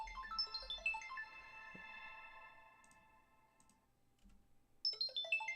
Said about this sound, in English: we're already getting one phone call.